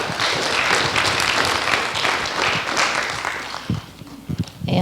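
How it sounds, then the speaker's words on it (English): An audience at a climate panel discussion claps for the moderator, a loud, full burst of applause that tapers off into a few scattered claps near the end. "Let's give her a clap."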